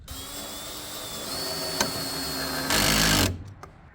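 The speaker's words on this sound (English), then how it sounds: "then we can go around and jam it full of more screws" A power drill drives screws into roof framing on a school bus conversion, a steady high motor whine that changes pitch briefly and surges louder near the end before cutting off, close and loud.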